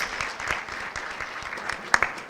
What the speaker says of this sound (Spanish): con un fuerte aplauso, le damos la bienvenida a Mazzarini en el eje número 2.